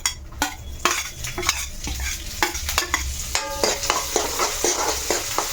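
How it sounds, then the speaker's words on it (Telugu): Ginger and green chillies frying in oil alongside cashews and raisins for samosa filling, with a steady sizzle under repeated sharp clinks and scrapes of a spoon stirring in the pan, close and fairly loud. "ఇప్పుడు దీంతో పాటు ఇదిగో మనం అల్లం, పచ్చిమిర్చి వేస్తున్నాం"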